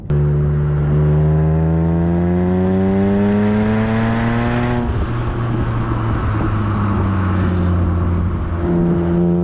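A BMW fitted with the S54 engine from an E46 M3 accelerates hard from inside the car, a loud, smooth rising engine howl that climbs steadily, briefly drops at a gear change, then climbs again.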